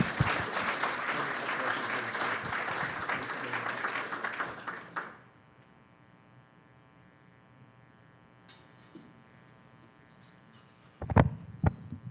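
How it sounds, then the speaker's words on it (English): An audience at a weekly organization meeting applauds a speaker after a presentation, with dense, steady clapping for about five seconds that then stops abruptly, leaving a quiet electrical hum and a couple of faint bumps near the end. "let's have a round of applause for Andy"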